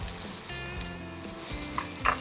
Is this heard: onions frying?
yes